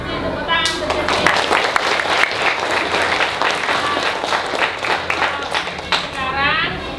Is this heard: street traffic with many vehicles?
no